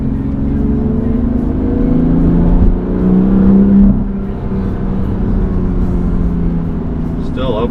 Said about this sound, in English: Driving around in the winter with some winter tires.